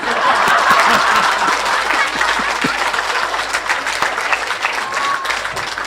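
An audience at a spiritual lecture claps together to imitate rolling thunder, a dense, steady wash of applause lasting several seconds with scattered light chuckles, and no one speaking.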